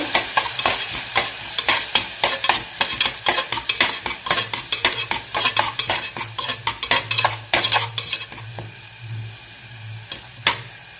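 Turmeric and curry leaves frying in oil in a pan, with a steady sizzle under a long run of sharp, rhythmic spoon-against-pan stirring clicks, close and fairly loud, without any talking.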